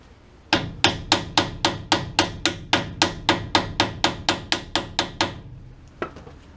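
A hammer strikes metal about eighteen times at a steady, even rhythm, loud and close, driving an axle bearing and seal onto a rear axle shaft, with one last lighter tap after a short pause.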